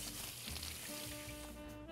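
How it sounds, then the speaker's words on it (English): Steady sizzling and bubbling from a pot on a stove, a continuous dense hiss with faint tonal hum underneath, close by. "Now that our water is boiling"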